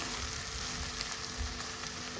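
Tender ivy gourd (tindora) pieces frying in a pan, giving a steady, soft sizzle that stays even from start to finish with no voices over it.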